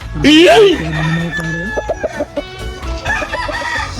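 A rooster crows loudly and nearby, a long rising then falling call, followed by clucking and a brief murmur of voices.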